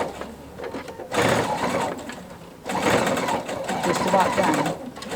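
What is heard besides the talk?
PFAFF sewing machine sewing apron with binder attachment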